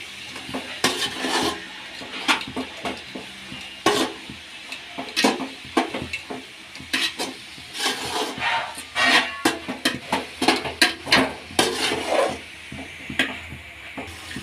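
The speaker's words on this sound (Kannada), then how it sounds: "ಇವಾಗ ಈರುಳ್ಳಿ ಎಲ್ಲ ಹಾಕೊಂಡಿದ್ದಿಲ್ಲ ಅದಕ್ಕೆ ಈಗ ಎಲ್ಲ ಮಿಕ್ಸ್ ಮಾಡ್ಕೊಳ್ಳೋಣ" Kadubu dough being mixed by hand with chopped onion, coriander and salt, a steady run of soft clattering, scraping and squelching strokes against a vessel, close and fairly loud with no talking.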